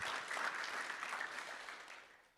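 An audience at an evening author event breaks into sustained applause, dense and steady throughout, easing slightly toward the end with no talk over it.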